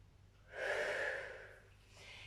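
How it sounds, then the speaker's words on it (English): A single slow, deep breath in and out, close and fairly quiet, during a rest break in a low-intensity whole-body exercise routine for older adults. "Take a deep breath in and out."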